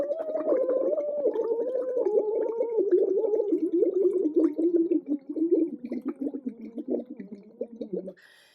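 A voice performs a bubbly lip trill, zigzagging up and down in pitch while descending overall from high to low, a continuous fluttering buzz lasting about eight seconds before stopping.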